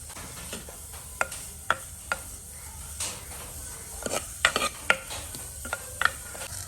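A medium onion frying until soft in a pan, heard as a quiet, steady sizzle with repeated sharp clicks and scrapes from stirring spread through the sound.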